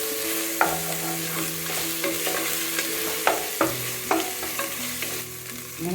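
Onions sauté with ginger-garlic paste in a pan for chickpea rice, giving a steady close sizzle. A spoon stirs and scrapes the pan in repeated knocks, with no voices.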